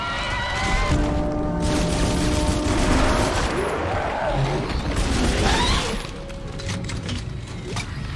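Rapid automatic gunfire in the horror shooter Dead Space 2, loud and continuous bursts layered with mechanical clatter, dropping off near the end as the weapon runs dry.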